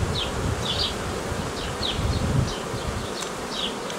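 A dense, steady buzzing of many honeybees close at hand at an opened hive, with occasional higher whirs as individual bees fly past.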